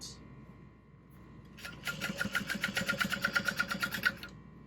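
Sewing machine top stitching a seam on a fabric tote bag, starting after a quiet pause and then running in a quick, even chatter of needle strokes for about two seconds, close up.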